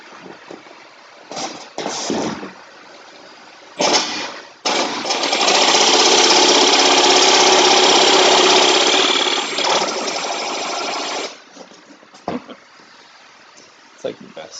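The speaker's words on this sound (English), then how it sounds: "I'm over here playing with a jigsaw." A jigsaw buzzes loudly and steadily for several seconds, with shorter bursts of cutting before and after, and a voice talking in between.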